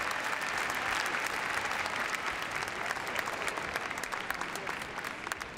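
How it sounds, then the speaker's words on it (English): A dog show crowd applauds after a heelwork-to-music freestyle routine at an international competition, dense steady clapping filling the hall for several seconds and thinning slightly toward the end. "Give it a big round of applause."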